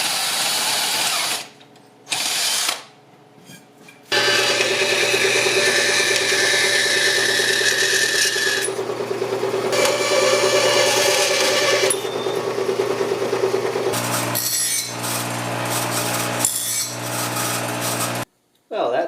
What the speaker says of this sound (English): Just making some clearance holes for the tack movement bolt